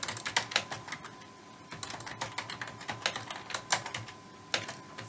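Switch configuration commands typed on a computer keyboard, a steady run of close, crisp keystrokes in quick irregular bursts with no talking.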